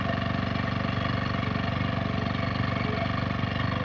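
A gasoline generator engine runs steadily and fairly loud, a dense continuous mechanical drone with a slight rise in speed and no other sounds over it.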